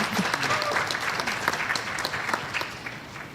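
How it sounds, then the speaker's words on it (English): An audience at a meeting on tuberculosis commitments claps steadily and fairly loudly, a dense even wash of hands that tapers slightly near the end. "Yes, please, some applaud for this group."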